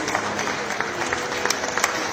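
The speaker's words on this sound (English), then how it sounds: "A round of applause for Equity Access." Applause from an awards-ceremony audience greets the winner of Best Investment Research Provider of the Year at the 2023 Capital Markets Award, a dense, steady wash of clapping throughout with scattered sharper claps.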